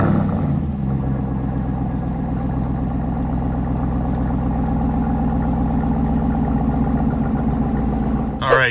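A truck fitted with an AWE 0FG exhaust warm-starts with a brief crank, then settles into a steady, loud, throaty idle that holds evenly throughout before a short noise at the very end.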